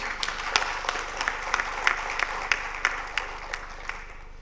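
An audience at a government scheme launch event applauds steadily, with a dense patter of clapping and sharper individual claps standing out at a moderate distance.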